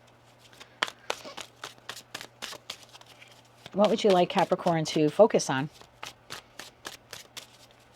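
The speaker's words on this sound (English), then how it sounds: "One more shuffle here." Tarot cards are shuffled in a series of crisp riffles and taps, while a person speaks briefly in the middle over a faint steady hum.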